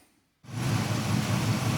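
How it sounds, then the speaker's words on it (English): Engine of a 1977 Pontiac Grand Safari station wagon, left abandoned for years, settling into a steady, low, rumbling idle close by after a brief quiet moment. "She's idling good, so I say we go for a spin."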